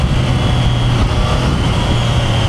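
Triumph Daytona 660 motorcycle engine at speed on an expressway, a steady loud drone with a low engine hum and constant road and wind roar throughout, no talking.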